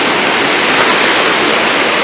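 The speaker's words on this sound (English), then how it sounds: "this side is the American waterfall, and the Canadian waterfall, the horseshoe-shaped waterfall, it's much more powerful" Steady roar of Niagara Falls on the American side, a dense, unbroken wash of falling water that stays loud and close throughout.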